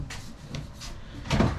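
A drawer beneath the oven in a lightweight fifth-wheel RV slides open or shut, giving a short soft rolling rumble followed by a firmer bump as it stops, close by with no talking.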